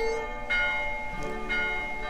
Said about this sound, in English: This is a wedding bell.